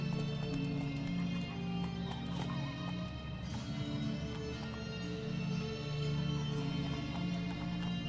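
A horse gallops steadily in The Witcher 3 video game, its hoofbeats drumming continuously over a bed of low game music and ambience, with an occasional snort or whinny.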